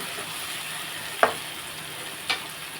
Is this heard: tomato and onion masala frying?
yes